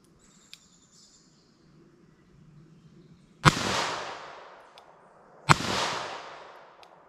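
Two loud gunshots from a .38 Super revolver fired outdoors, about two seconds apart, each a sharp crack with a ringing decay, after a quiet stretch of faint background noise.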